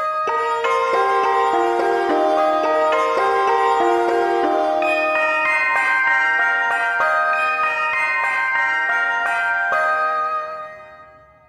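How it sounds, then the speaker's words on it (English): Lonesome Shawzin, a video game instrument modelled on bianzhong bells, plays a steady run of ringing bell tones alone, each strike overlapping the last before the sound fades out at the end. "So it's bells."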